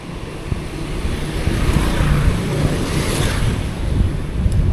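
Strong wind roars steadily across the microphone while cycling near Santa Maria, Bulacan on a gentle uphill road, a loud continuous low rumble with gusty swells and no voices.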